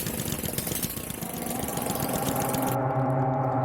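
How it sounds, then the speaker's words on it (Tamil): An auto rickshaw engine runs steadily with a rough, chugging putter, close by and fairly loud, with no talk over it. "உலகத்திலே முதல் முறையா உப்பு தண்ணியில ஓடுற இன்ஜின்."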